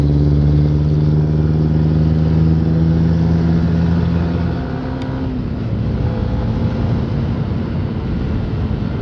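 A vehicle engine runs steadily and pulls, a loud continuous droning hum with strong low tones that shift pitch midway, no voices.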